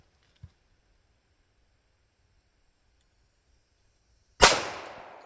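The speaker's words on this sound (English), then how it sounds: "I'm gonna fire this taurus in front of the camera, just a couple shots" A single sharp, loud report from a Taurus 1911 pistol rings out near the end, with a long fading tail, after a faint click early on and near silence between.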